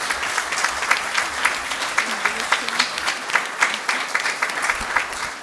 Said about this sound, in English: let's give the parents and the caregivers a round of applause for making this happen.